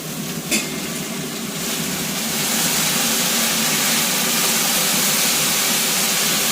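Potatoes stir-frying in a pan make a loud, steady sizzling hiss close by. A single short scrape comes near the start, and the frying grows slightly fuller after a couple of seconds.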